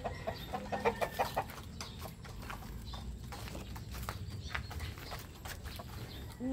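White Kelso chickens cluck and murmur in a coop before feeding, with scattered soft clucks and rustling footsteps at moderate distance; a louder burst of clucking rises early on.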